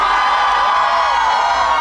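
An audience at a Korean singer's performance cheers and shouts loudly, a sustained wall of crowd voices and whoops filling the room without a break.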